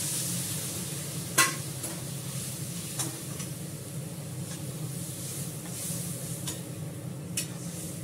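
Meat added to a pot for biryani with potatoes, sizzling softly and steadily at low volume, broken by a few sharp spoon clinks from stirring.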